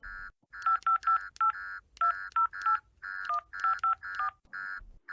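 A telephone being dialed, with a rapid run of clear touch-tone keypad beeps in short irregular groups, close and alone with no talk.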